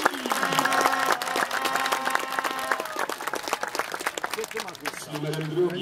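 Crowd applause and clapping at a speedway meeting, the European U23 team championship in Kraków, greeting a rider's introduction, steady and dense over a PA announcer's voice with stadium echo.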